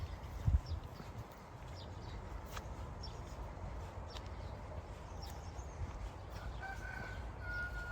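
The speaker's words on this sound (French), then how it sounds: "Il se lève tard le coq, hein." Rooster crowing in the Basque countryside in the morning, faint and distant, rising briefly over a steady outdoor background hum.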